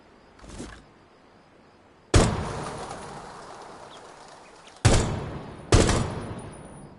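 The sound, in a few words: gunfire at shooting range in video game Rainbow Six Siege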